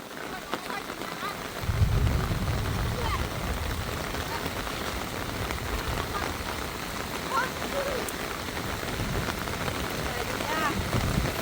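Steady rain pours down at a rural Thai home while water flows into a rice field, a dense continuous hiss running throughout, briefly louder near the start.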